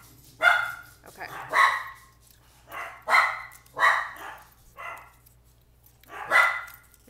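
Several dogs bark indoors in separate bursts, about six sharp barks spaced roughly a second apart, loud and close over a low steady hum.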